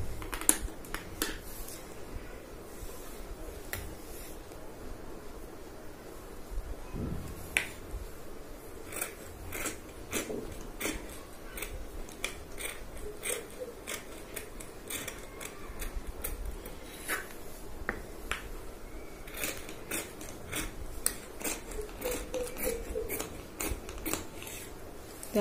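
Scissors snip through blouse fabric in a long series of crisp, irregular clicks and cuts, close and moderately quiet against a faint background, with no talking.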